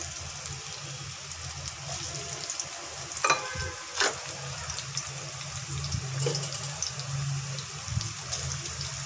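Bean seeds frying in a pan just after fish has been fried, a steady close sizzle with soft crackles and a couple of sharper pops near the middle.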